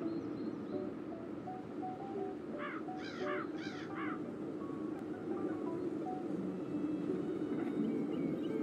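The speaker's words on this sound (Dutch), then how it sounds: "de vogeltjes heel vrolijk zijn. Ze zingen al heel de tijd zo mooi." Birds call outdoors in the middle distance, a short run of harsh, crow-like caws of four or five notes standing out over a steady wind-like background hum, with no one talking.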